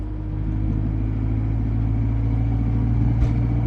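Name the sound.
Abarth car driving onto the highway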